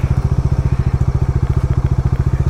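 An off-road motorcycle engine thumps in a fast, steady, loud pulse up close as the bikes ride past on a hill road, with no talk.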